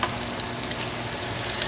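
Mushrooms frying in a pan, a dense close sizzle with faint stirring scrapes, steady and alone without talk.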